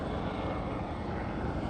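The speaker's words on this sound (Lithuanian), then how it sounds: "Gelbėtojų lėktuvas, atsiprašau, malūnsparnis." A rescue helicopter flies overhead, its engine and rotor roar a loud, steady broadband drone that fills the short stretch with no voices.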